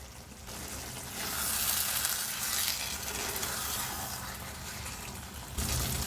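Matar paneer simmering in a covered pan over a medium flame, a continuous soft sizzle and bubbling that holds steady throughout, close and without talking.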